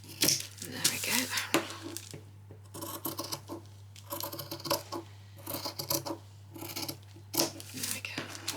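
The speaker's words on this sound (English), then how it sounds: "I'm going to come in and just cut everything out" Scissors cut fabric laid on a cutting board for a child's spring outfit, making intermittent close snipping and rasping drags with a low steady hum beneath.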